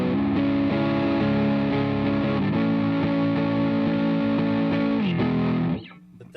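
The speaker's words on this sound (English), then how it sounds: "I like pretty bass heavy distortion like this." Guitar played through a distortion effects pedal set for a heavy, bass-rich tone, a thick sustained chord wall that stays loud for several seconds before it abruptly cuts out near the end.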